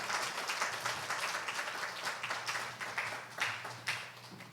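An audience at a family seminar claps warmly to welcome a pastor, with steady, dense applause from many hands that holds throughout and thins slightly toward the end.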